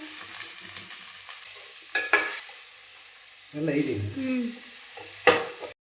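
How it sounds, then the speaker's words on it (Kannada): Onions fry in a pan with a soft continuous sizzle, broken by a few scraping stirs and clatters of a utensil against the pan, heard close and without talk. "ನೀರುಳ್ಳಿ ಸರಿ ಫ್ರೈ ಆಗಬೇಕು"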